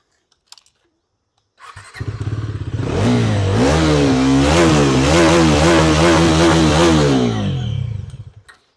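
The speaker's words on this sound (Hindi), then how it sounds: "डबल बैरल साइलेंसर मिलता है, जिससे क्या है इसकी आवाज़ है ना वो होती है एकदम गोली की तरह" A Bajaj Dominar 350 motorcycle engine starts up close by, then revs repeatedly in deep rising and falling bursts with a loud, throaty twin-barrel exhaust before cutting off.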